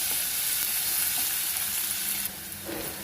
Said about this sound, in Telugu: ఇక్కడ ఉల్లిపాయలు వేయించుకుంటూ